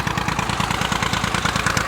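A tractor engine runs steadily beside a water channel, its low, even chugging pulses close and continuous, with no talk.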